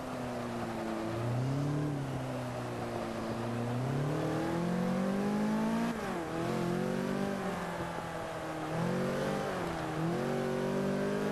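A race car engine in Forza Motorsport 5 on the Road America track, held loud and close with steady rising and falling pitch sweeps as it revs and accelerates through gear changes.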